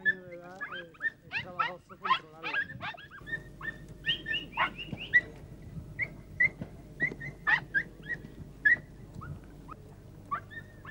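Podenco hunting dogs during a small game hunt yelp and bay in repeated excited bursts, close and insistent, with a steady low outdoor rumble underneath and a voice talking over parts of it.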